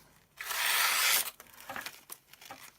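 A knife cuts through catalogue paper with a single close, slightly toothy rasping stroke, then soft crinkles and small handling noises as the sheet settles.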